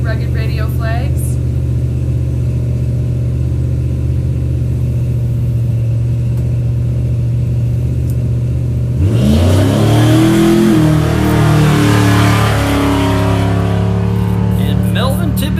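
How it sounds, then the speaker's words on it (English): Ford F-150 race truck launching off the line in off-road racing qualifying at Broadview, Montana: a steady engine drone then a loud surge of revving acceleration, with announcer commentary over it. "And Melvin Tibbetts is off the line with his F-150 out of Pine Ridge, South Dakota"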